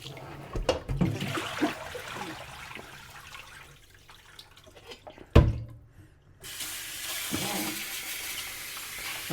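Beef bones for pho rinse under a running kitchen tap, water splashing and gurgling in a sink with handling clunks, one sharp knock midway, then a steady stream of flowing water.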